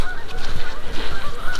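Loud Canada geese honk repeatedly nearby, a rapid overlapping series of nasal calls from several birds with no talking.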